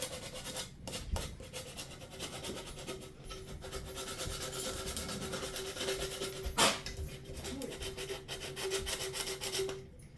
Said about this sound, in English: I'm just gonna sand some of the glue off.